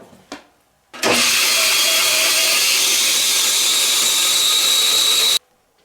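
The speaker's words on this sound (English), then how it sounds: "Now I'll take that to the bandsaw and we'll cut our pen blanks out of it." A bandsaw slices a resin-cast walnut block into pen blanks, a loud steady broadband cutting roar lasting several seconds after a short start-up, with no talking over it.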